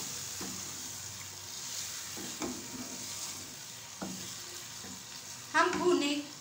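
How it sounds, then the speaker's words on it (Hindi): A kilo of chicken fries in a pan for aloo chicken, with a steady close sizzle broken by periodic scraping stirs and a louder, hissing burst near the end. "अब हम इसमें डालेंगे चिकन, 1 kg चिकन। और हम इसको अच्छी तरह भूनेंगे।"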